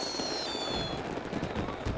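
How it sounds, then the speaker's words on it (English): Fireworks barrage crackling and popping at the Rio carnival parade as Mangueira's samba school enters the Sambadrome, a dense, continuous, loud roar of bursts with no clear gaps. "A barrage of fireworks is Mangueira's cue to enter the Sambadrome."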